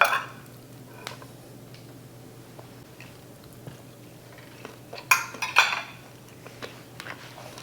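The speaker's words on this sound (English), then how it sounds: "I got that knife and fork going on tonight. Just to show you how easy this cuts." A knife and fork work through smoked BBQ short ribs on a plate. Sharp metallic scrapes and clinks of cutlery come up close, with a burst of busier scraping near the end over a low background hum.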